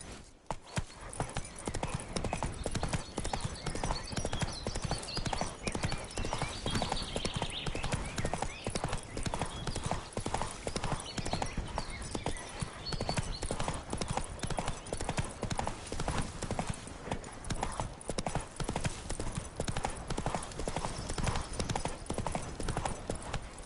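The horse Roach galloping in The Witcher III, a steady rapid drumming of hoofbeats that runs unbroken throughout, with an occasional whinny and faint speech beneath.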